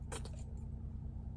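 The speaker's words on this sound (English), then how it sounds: "Now these 2 keys have to come off of this because I noticed that it is molding." Moldy keys jangle as they are worked off a ring from a junk jar, a quick cluster of bright metallic clinks at the start over a steady low hum, then quieter.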